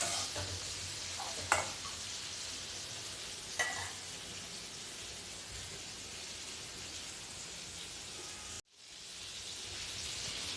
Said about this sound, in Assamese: এইখিনি অকণমান ফ্ৰাই হ'বলৈ দিছোঁ মই